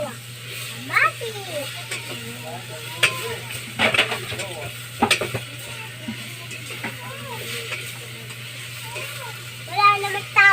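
Garlic and vegetables for carninas gisado sizzle in a frying pan, with a steady background hiss broken by clattering stirring strokes. Voices, including a child's, talk over the cooking.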